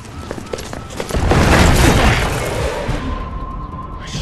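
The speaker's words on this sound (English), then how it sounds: "Commencing with bombing." Bombing blasts in the video game Resident Evil 6, with a deep rumbling explosion that swells loudly after a second and slowly fades over the next few seconds, followed by lingering debris and a thin tone.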